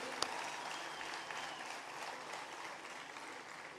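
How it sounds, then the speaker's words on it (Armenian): A crowd gives a sustained round of applause to the participating groups at an outdoor festival, a soft, even wash of many hands clapping from start to finish. "ծափերով ողջունենք բոլոր մասնակից խմբերին"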